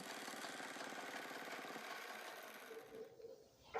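A sewing machine stitching a six-panel petticoat runs in a quiet, rapid, even chatter for a few seconds before stopping, followed by a brief handling noise.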